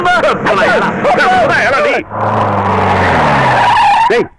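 A car arrives with tires skidding and squealing loudly, a sharp screech that settles into a low engine rumble, with voices talking over the first half.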